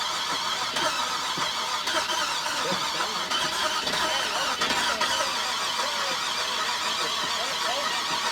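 A truck's engine is cranked with a Scosche jump starter out on a rough off-road trail. It makes a steady, loud mechanical drone while people talk over it.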